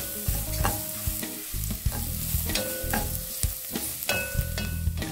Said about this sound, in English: And give this a nice mix.